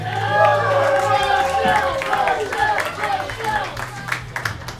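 A comedy show crowd claps and cheers for a comedian leaving the stage, with a host's voice carrying over the applause throughout.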